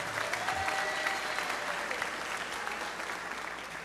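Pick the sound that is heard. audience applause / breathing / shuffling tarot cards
audience applause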